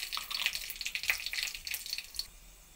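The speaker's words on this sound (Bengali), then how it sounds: "মধ্যে ফোড়নে দিয়ে দেবো অল্প একটু পাঁচফোড়ন" Panch phoron spices crackle and sizzle in hot oil, a soft, close spitting hiss with quick irregular pops that fade toward the end.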